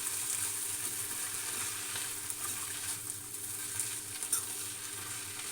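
Peanuts, green chillies, sanangi leaves, mint and curry leaves frying in a pan while being stirred give a steady, close, hissing sizzle with light scraping stirs, fairly quiet and without talk.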